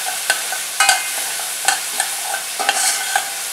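Finely chopped onion frying in ghee for podi idli, a bright crackling sizzle close up with several quick spoon clinks and stirring strokes at an uneven rhythm.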